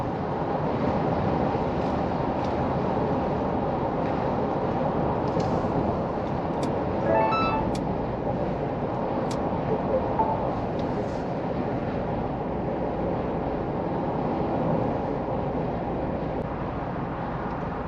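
Cabin of a GWM Cannon Alpha 2.0T HEV ute on the road, with a constant low rumble of road noise and a light hiss of wind, steady throughout with a few faint rattles.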